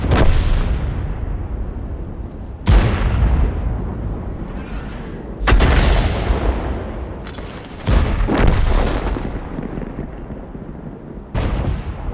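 Artillery guns fire in World of Tanks, four or five heavy, loud booms spaced a few seconds apart, each followed by a long rumbling decay.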